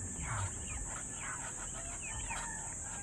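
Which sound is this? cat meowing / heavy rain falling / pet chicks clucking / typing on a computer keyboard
pet chicks clucking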